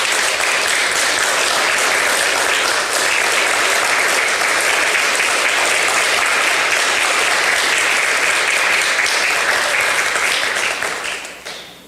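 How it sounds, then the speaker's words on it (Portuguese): A church congregation claps steadily in sustained applause, dense and loud throughout, tapering off at the very end. "Dê uma salva de palmas para Jesus"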